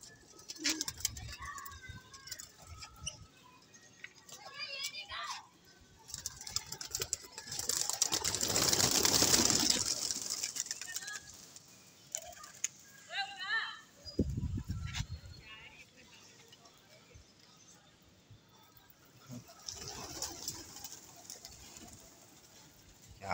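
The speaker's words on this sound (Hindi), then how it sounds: "आ गए सारे कबूतर।" Pigeons coo repeatedly throughout, with wing flutters and scattered clatter, while people talk intermittently nearby.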